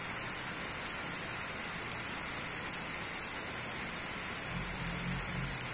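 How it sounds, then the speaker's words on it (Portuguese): Heavy rain pours steadily and close, a dense even hiss on the road between Claraval and Ibiraci in Minas Gerais, with a brief low rumble near the end. "Debaixo desse chuvão bonito aqui."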